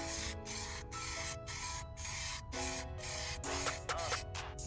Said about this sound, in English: Spray that one a little bit.